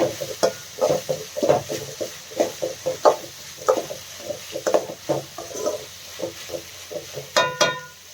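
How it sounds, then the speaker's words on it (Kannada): Vegetables and chopped capsicum are stirred in a frying pan, with irregular scraping and tapping of a spatula against the pan over a faint sizzle, close and fairly quiet, without talk. "ಈಗ ಇದೆಲ್ಲ ಸ್ವಲ್ಪ ಚೆನ್ನಾಗಿ ಫ್ರೈ ಆಗಬೇಕು"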